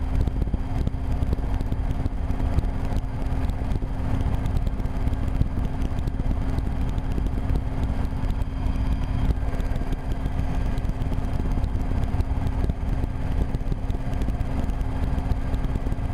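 A Rotorway kit helicopter in flight gives off a steady, loud engine and rotor drone with a strong low hum and constant wind buffeting on the microphone. It runs unbroken for the whole stretch.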